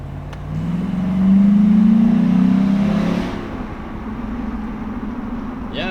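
A lifted Jeep on big tires with a performance tune accelerates around a turn, the engine swelling to a loud, close drone for a couple of seconds and then easing off, no talking.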